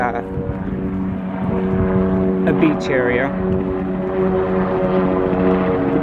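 Helicopters flying over a beach area at Blackwater River State Park, a continuous loud engine and rotor drone with steady tonal hum, heard beneath a person talking.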